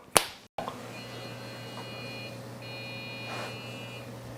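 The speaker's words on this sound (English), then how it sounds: "we got multiple beeping from the PC" An electronic beep tone from a Dell Windows XP desktop PC sounds steadily after a sharp click, with a faint repeated diagnostic beeping pattern at startup over a quiet hum.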